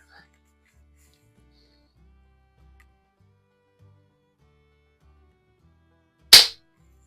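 A single sharp crack from a Remington 1875 CO2 revolver being fired, loud and close, near the end of an otherwise quiet stretch with only faint low handling noise.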